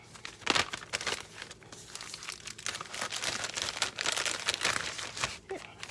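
A quart-size plastic Ziploc bag is handled up close and pressed shut, giving a run of crisp crinkling and rustling bursts that rise and fall over several seconds.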